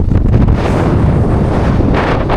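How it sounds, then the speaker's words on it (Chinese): Strong gale-force wind in the Scottish Highlands buffets the microphone in a loud, continuous roaring rush with no pauses. "世纪大风"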